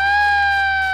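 A steady electronic siren tone marks the start of a game show's final round, a loud continuous wail held for about a second with no voices over it.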